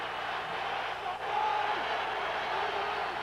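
Stadium crowd roar at a 49ers versus Rams NFL football game, a steady distant wash of voices with a slight swell midway, under a commentator's voice.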